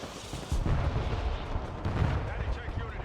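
Artillery barrages in the strategy war game Broken Arrow, a dense rumbling wash of booms and blasts rolling on without a break at steady loudness.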